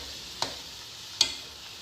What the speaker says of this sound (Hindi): अब हम इसके अंदर अपना जो दही बना के रखा था जिसके अंदर हमारे सारे मसाले थे वो डालेंगे और फिर इसको थोड़ा सा भूनेंगे